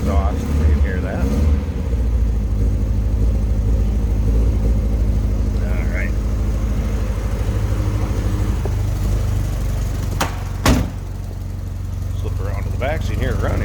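A 1974 Triumph Spitfire 1500 convertible, nearly stock but with a more aggressive exhaust through a single rear pipe, idles in neutral. A steady, throaty low drone runs throughout, with one brief thump near the end.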